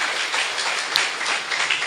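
A church congregation applauds during a worship service, a continuous wash of many hands clapping with a few louder claps standing out.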